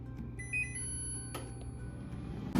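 A short burst of high electronic beeps from a Cosori Iconic air fryer's shake reminder rings out over a steady appliance hum, then the hum carries on alone.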